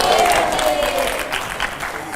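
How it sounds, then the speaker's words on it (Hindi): A studio audience claps for a guest on a Hindi news-interview set, brief loud applause heard up close while a voice talks over it. "जोरदार तालियां, जोरदार तालियां।"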